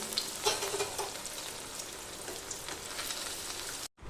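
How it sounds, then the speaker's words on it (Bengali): Biscuit-crumb-coated fish fries in hot oil with a continuous crackling sizzle, close and moderately loud, ending in a sudden brief cut. "আমার তেল গরম হয়ে গেছে আর আমি এবার এটাকে এর মধ্যে ভাগতে বসিয়ে দিলাম"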